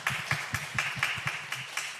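Church congregation clapping during a 29th-anniversary thanksgiving Sunday service, a steady run of fairly close claps with a rhythmic beat, nearly in unison, moderately loud.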